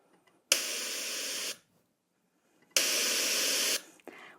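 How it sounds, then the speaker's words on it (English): Computer-generated white noise made from random samples: two loud, flat bursts of full-spectrum hiss, each lasting about a second, separated by silence, with a fainter short burst at the end. "This kind of sounds is what you call white noise, so it's a randomly generated full spectrum sound."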